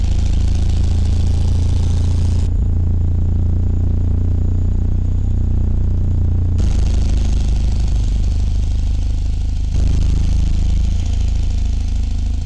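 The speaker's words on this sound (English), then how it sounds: "Let's do some engine brake." Truck engine brake in American Truck Simulator, pulling a livestock trailer: a loud, continuous low rumbling drone that shifts in tone at a few points, with no talk over it.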